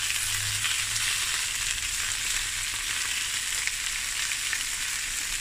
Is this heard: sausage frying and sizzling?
yes